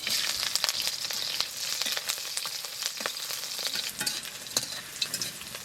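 Garlic and green chillies frying in mustard oil, with a steady bright sizzle, crackling spits and occasional stirring scrapes close up, no voices.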